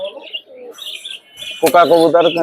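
Pigeons sold at a market give low, throaty coo calls, first faint and scattered, then louder, repeated cooing up close amid light chirps and surrounding chatter.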